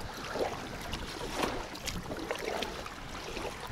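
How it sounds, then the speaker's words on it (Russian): Motorboat passing on a river near a kayak close to a city, a faint, low rushing drone with water and wind noise, moderately distant, no voices. "Чем ближе к городу, тем катеров больше встречается."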